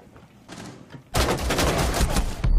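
Sustained machine gun fire in Rainbow Six Siege: a brief quieter lead-in, then a loud, dense burst of rapid shots rattling continuously for over a second.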